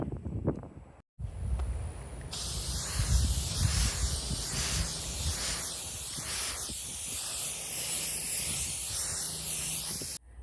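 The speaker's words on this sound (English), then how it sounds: "I have the Cinzer shellac, so I'm gonna spray this on and see how that goes." Zinsser shellac primer hisses from an aerosol spray can in one long, steady close burst lasting most of the time, following a brief quieter lead-in and a short gap.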